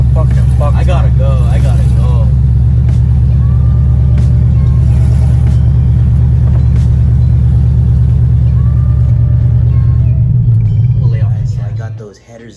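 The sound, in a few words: C6 Corvette engine running open headers, very loud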